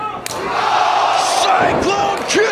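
Wrestling crowd at a PWG Chris Hero vs. Kevin Steen match roaring and cheering loudly and continuously, with swelling shouts and whoops rising over a dense wall of noise.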